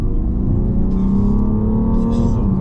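A six-cylinder twin-turbo diesel car's engine drones and pulls steadily, a deep continuous growl rising slightly in pitch as it accelerates, close and loud.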